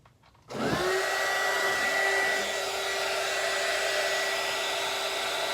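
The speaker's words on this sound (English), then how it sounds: "I'm going to go ahead and heat it using my heat gun so that way I can mix it further." Heat gun blowing onto mixed resin in a cup, switching on with a rising whir and settling into a steady, close, loud airflow hum.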